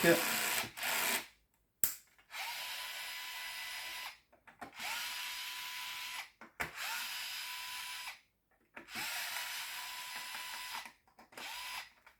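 A power drill or screwdriver backs out the ten stainless steel shell screws of a Windbird, running in four or five separate bursts of about one to two seconds each with brief silent pauses between them.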